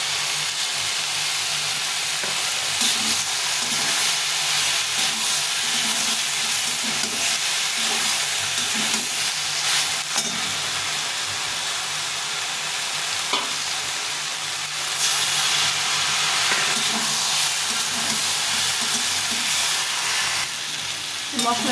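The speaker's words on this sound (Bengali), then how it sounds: "এটা দিয়ে একটু কষিয়ে নেব।" Ginger and cumin paste sizzles in an oiled pan with a steady, loud hiss, broken by soft scraping as it is stirred and fried.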